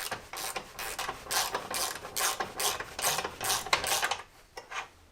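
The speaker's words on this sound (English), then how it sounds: "So I did need to lift the hoist a little bit so I could try and get this bolt out." An engine hoist is pumped up slightly while a MINI Cooper R50/R53 engine hangs from it during removal. A rapid, close ratcheting clatter repeats in quick rhythmic strokes, then stops.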